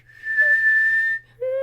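A person whistles a tune alone at close range: one long steady held note lasting about a second, a short pause, then a second sustained note.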